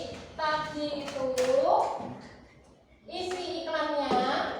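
Children in a classroom clap briefly for a student, a short burst of hand claps mixed with kids' voices and chatter, fairly close.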